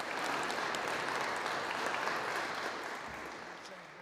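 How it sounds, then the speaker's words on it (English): An audience at a police chief candidate open house claps steadily for the candidates, a dense, even round of applause that holds strong for about three seconds and then gradually thins and fades. "Quick round of applause for them"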